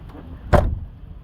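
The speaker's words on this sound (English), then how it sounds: "let's see if this door closed" A single solid thud as the door of a 2002 GMC Sierra 1500 pickup swings shut nearby, short and sharp with a brief low rattle after it, set against quiet outdoor background.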